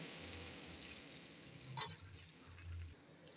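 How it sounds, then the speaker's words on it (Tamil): Dosa batter hitting a hot griddle, giving a soft, steady sizzle and crackle at low volume with a brief sharper scrape partway through. "இப்போ நம்ம தோசை ஊற்றலாம்"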